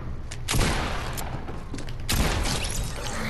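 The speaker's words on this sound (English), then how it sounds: "You do have auto fire." Automatic gunfire in a mobile shooter video game, a steady rattling stream of shots with two heavier booming hits, close and loud with no talking.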